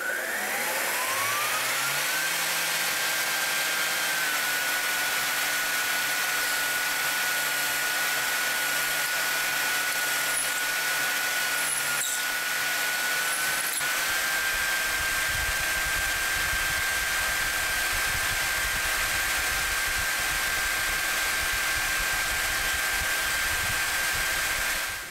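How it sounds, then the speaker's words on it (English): A DIY CNC mill thread milling M8 threads in aluminum: a steady high spindle whine with a constant tone runs throughout, with a dense broadband hiss and cutting noise that shift slightly midway, loud and close, with no talking. "Thread milling is a slow process"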